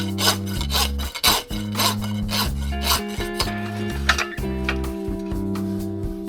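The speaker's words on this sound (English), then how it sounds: "So it starts by taking the heads of these nails and filing them all off, and then pulling the shoe off." A hand file rasps steadily across horseshoe nail heads on a horse's hoof, with rhythmic back-and-forth strokes that come close and loud, while a droning hum runs underneath.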